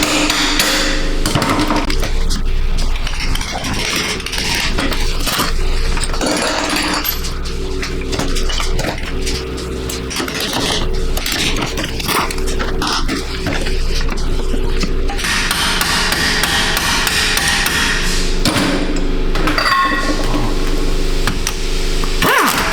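A hammer taps repeatedly on a stuck rear wheel bearing bolt of a Subaru, a loud, close run of sharp metallic strikes with irregular rhythm and ringing clanks.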